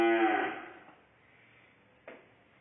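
French cream cattle on a farm: one cow lets out a long, loud moo that fades away, followed by a faint knock in the quiet.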